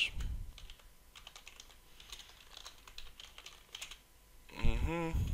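Computer keyboard keys tapped in a steady run of light clicks while entering code for an ASP.NET MVC app, fairly faint and close, ending in a short louder burst of another sound.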